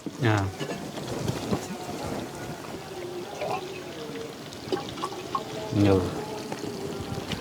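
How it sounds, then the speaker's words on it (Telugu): Water is poured into a dhaba-style egg curry gravy built on an onion, tomato and cashew paste, a soft steady trickle running beneath nearby voices. "అలాగే ఇందులో కొంచెం నీళ్ళు కూడా వేసుకుంటున్నాను"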